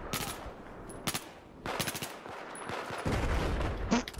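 Rapid bursts of automatic gunfire in the Battlefield 4 shooter game, several sharp volleys cracking close by with brief pauses between, loud and dense, with no talking over it.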